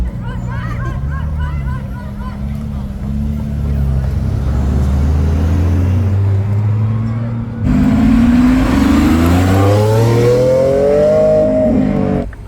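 A McLaren Artura hybrid drives along the Las Vegas Strip, its engine climbing through rising revs, dropping at a gearshift and surging loudly again, with crowd chatter and voices around it.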